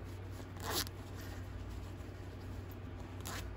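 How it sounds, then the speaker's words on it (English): The zipper on a freshly sewn fabric pouch is pushed open, giving one short raspy zip close by and a second faint scrape near the end, set against a quiet low hum. "I'm gonna push my zipper open a little bit"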